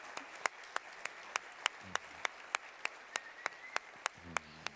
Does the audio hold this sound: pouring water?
no